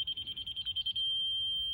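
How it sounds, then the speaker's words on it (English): A laser level receiver on a foundation and block job beeps in quick pulses, then settles into one solid, continuous high-pitched tone, faint and close with low rumble beneath. "I want to hear the solid beep for, here, I'll show you, for 2-3 seconds"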